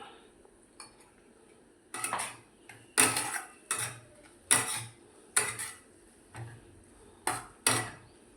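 Ginger is stirred into a pan of paneer bhurji, with about ten rhythmic metallic scrapes and clacks against the pan, close and fairly quiet, set against a soft background hiss.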